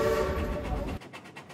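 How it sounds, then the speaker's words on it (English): A steam-style excursion train at Silver Dollar City theme park sounds its whistle, with a sustained tonal blast over rumbling rail noise, then the train's noise drops away and faint repeated pulses follow. "give me three toots on the train whistle"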